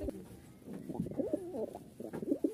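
Rajshahi Giribaz pigeons coo in soft, repeated rolling phrases, close by and steady across the whole stretch, with no voices.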